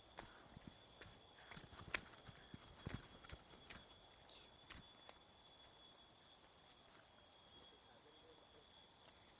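Insects chirping continuously along a shaded, tree-lined temple path, a steady high-pitched whine with a second drone joining midway, plus soft scattered footsteps and taps, quiet and ambient.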